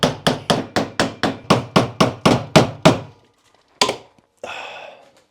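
A hammer drives a chisel against a bushing ring on a BMW M3 Competition suspension part, about eleven sharp, evenly spaced metallic strikes, loud and close, then a pause, one more hit and a brief scraping clatter.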